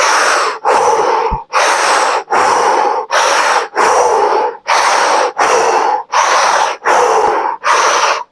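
Rapid, forceful breaths during a Kundalini-inspired somatic breathwork exercise, about ten loud, close bursts in steady rhythm, each separated by a brief pause, with no talking.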